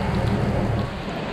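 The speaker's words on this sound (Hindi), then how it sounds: "इतनी बारिश में कौन जाता है यार ऐसे" Heavy rain pours steadily on the road to Madikeri and Abbe Falls in Coorg during a monsoon ride, a dense, even hiss filling the scene with no talk over it.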